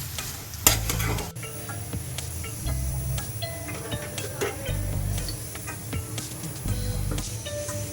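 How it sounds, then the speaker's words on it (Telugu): A spoon stirs an amaranth leaf pickle mixture with fenugreek and mustard powder, chili and salt in a bowl, giving repeated scraping and squelching strokes in a steady rhythm, close and moderately loud. "బాగా కదపాలి."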